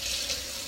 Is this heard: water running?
yes